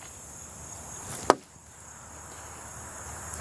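A hornworm is squashed on a piece of plywood with a single sharp, loud smack in an otherwise quiet outdoor setting.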